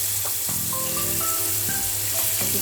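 Marinated paneer tikka pieces shallow-fry one by one in hot oil, giving a loud, constant sizzle with crackles and small pops. A few light clinks of a utensil come through, and no one talks.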